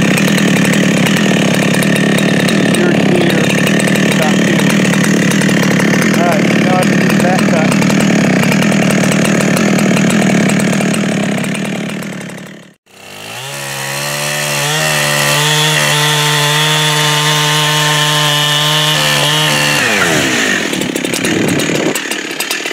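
Chainsaw making a bore cut to fell a tree, loud sustained engine whine while cutting through wood, briefly dropping off around the middle before revving back up to a steady high idle and tapering off at the end.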